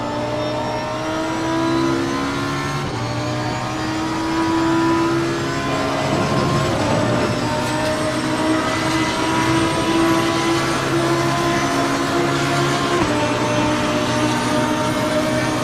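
A race car engine in the video game Assetto Corsa Competizione roars and revs continuously, its pitch rising and falling through gear changes, loud and close throughout.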